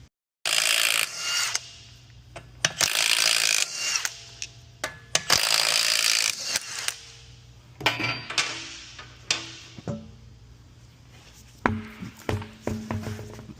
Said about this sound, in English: let's take the wheels off